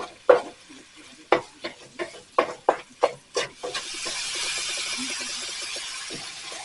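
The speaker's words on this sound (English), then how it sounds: "Mix that all in." Chili powder being stirred into burrito filling in a pan: a series of sharp utensil scrapes and knocks, then a steady close sizzle as the stirring settles.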